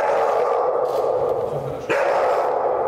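A large guard dog barks in a palace protocol hall during a state meeting, a loud close bark heard once amid busy room noise.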